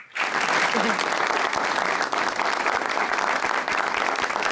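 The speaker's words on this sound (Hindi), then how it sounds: "दोनों के लिए भरपूर तालियां" A studio audience at a televised talk show applauds loudly and continuously, dense clapping filling the room from start to finish with some crowd noise mixed in.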